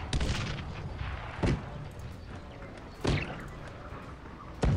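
Heavy booming cannon blasts in the strategy video game Cossacks 3 repeat at intervals of roughly a second and a half, each a sharp thump over a constant dense roar of siege battle noise.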